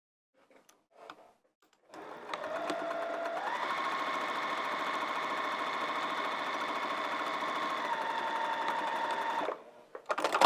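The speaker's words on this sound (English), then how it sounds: "And now we're going to sew on that line." Steady, continuous whir of a sewing machine stitching a straight line across a fabric dog kerchief, starting after a brief pause and running evenly at close range for several seconds before stopping abruptly.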